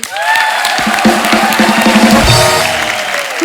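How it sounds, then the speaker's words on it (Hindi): A comedy show's studio audience bursts into loud, sustained applause with cheering mixed in, a thick continuous roar of clapping that stays strong the whole time while music plays underneath. "जोरदार तालियां हो जाए"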